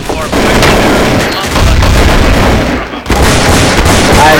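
Gunfire in Counter-Strike: Source rattles loud and dense throughout, rapid shots layered over one another with brief dips, while players talk over the game.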